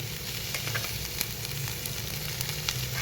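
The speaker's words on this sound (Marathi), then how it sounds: "आता याला परतून घेऊ" Shravan ghevda beans stir-frying in a pan with chilli powder, turmeric, crushed peanuts, salt and coriander give a steady, close sizzle with faint stirring scrapes throughout and no talking.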